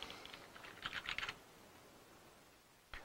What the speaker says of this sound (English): if I type garbage in here